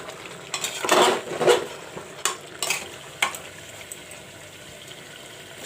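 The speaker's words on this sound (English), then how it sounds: "Now I will fry the mutton along with this masala." A spoon scrapes and stirs in a pan in short bursts over a soft, steady sizzle of mutton frying in masala.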